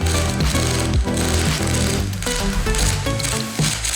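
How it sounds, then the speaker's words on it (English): A roughly 50-year-old welder runs a bead on metal, giving off a dense, continuous crackling buzz that stays loud and close for the whole stretch. "I'm ready to say this welder does a good job of welding"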